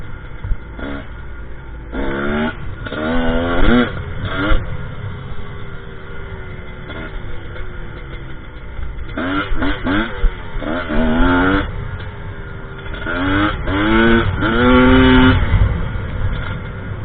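A GPX TSE 250R motorcycle engine while riding, repeated revving rises and gear changes under steady wind rumble, loud and close throughout.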